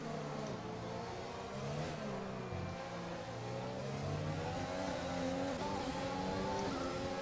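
An F1 race car engine in a racing video game, at the Azerbaijan round, whines loudly and steadily, its pitch stepping down through several gear changes as it slows. No voices are heard.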